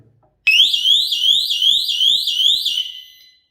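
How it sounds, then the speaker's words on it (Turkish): A loud electronic burglar alarm suddenly blares as a door is forced open, a rapid warbling siren that sweeps up repeatedly for about three seconds before cutting off. "Gördüğünüz gibi açılır açılmaz direkt alarm verdi."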